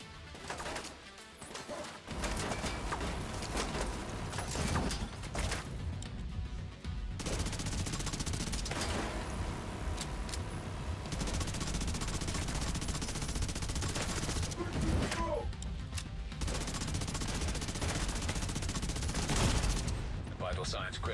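Heavy machine gun and sniper fire in the video game PTS, a dense continuous barrage of gunshots filling most of the clip, loud and close, with brief lulls and a speaking voice over it.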